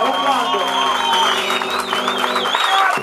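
A live bar crowd applauds and cheers over music with a sustained melodic line, the clapping steady and moderately loud throughout.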